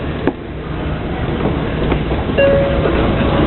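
A bullet train idles at a station platform under a steady rumble and crowd murmur as people board, with a few faint clinks and a short high chime.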